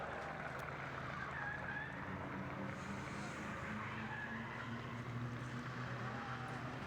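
Brian Egan's R32 Skyline drifts at a pro drift competition, a continuous roar of engine and tire squeal heard from a distance, steady and sustained throughout.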